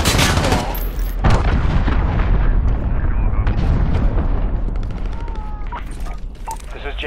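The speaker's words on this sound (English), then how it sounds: "Allied cruise missile away." A cruise missile strike in Call of Duty Modern Warfare lands with a loud, rumbling explosion and rolling gunfire-like blasts that fade slowly, with radio voices talking over it.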